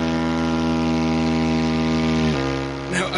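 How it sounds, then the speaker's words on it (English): A buzzy, reedy drone holds one steady pitch, then drops lower near the end, sounding like a homemade squawking reed horn made from a vinyl glove and straw, played up close. "So we have a Glovophone here that sounds a bit like this."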